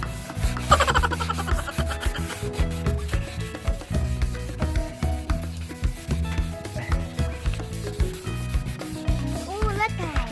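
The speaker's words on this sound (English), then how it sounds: "Keep rubbing until you see that your plastic covers of your headlight be getting clear." A plastic car headlight cover is rubbed and sanded by hand during a restoration, making a close, continuous scratchy rubbing in quick repeated strokes for about ten seconds.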